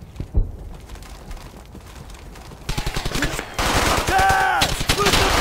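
Rapid bursts of rifle and machine-gun fire in a firefight in the Brothers in Arms video game, opening quiet and then breaking into dense, loud volleys that keep building toward the end.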